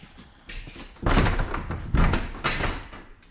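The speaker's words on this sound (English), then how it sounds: "garage door." A garage door being pulled shut, a few heavy thunks and rattling bangs in quick succession, close and fairly loud, with no talk.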